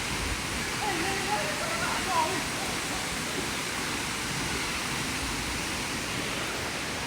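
Bouma waterfall on Taveuni island, Fiji, roars as a steady, full broadband rush close by, unbroken throughout, with a faint voice barely surfacing over it.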